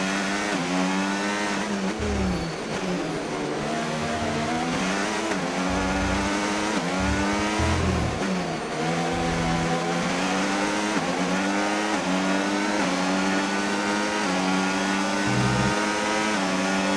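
Race car engine from the racing video game Braking Point 3, loud and steady at high revs with gear-change dips and shifting pitch as it overtakes another car, continuous throughout with no talk.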